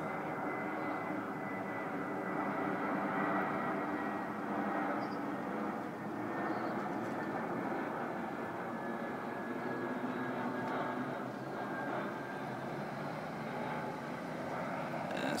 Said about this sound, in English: So the routine 845 Jetstar aircraft.